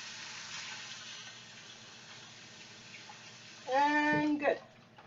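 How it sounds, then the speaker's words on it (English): Tap water runs over hands being washed after rubbing butter into baked apples, a steady moderate hiss throughout, with a brief louder tonal squeak or voice-like sound near the end. "make sure and wash your hands again because this is yucky"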